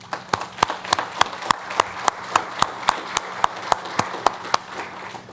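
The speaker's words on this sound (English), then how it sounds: "if we could give them a round of applause" Steady, evenly spaced clapping repeats about three times a second, sharp and fairly loud, like a group clapping in time, from an audience at a fire department youth academy graduation.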